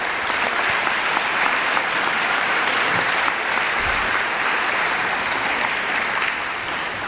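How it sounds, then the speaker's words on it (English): An audience at a high school People's Choice Awards ceremony breaks into a dense, steady round of clapping that stays loud and even for several seconds, with no speech over it. "please give yourself and others in the audience a hearty round of applause"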